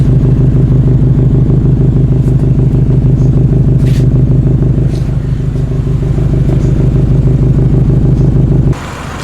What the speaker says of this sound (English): Once the car's warmed up, the idle sound is